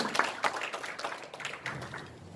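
Congregation claps together at a Sunday worship service in a church, a dense patter of hands with a few sharper bursts, steady and moderately loud for the whole stretch.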